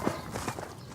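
Horses moving at a trot, hooves clopping in a quick, uneven rhythm at moderate distance, with no voices over them.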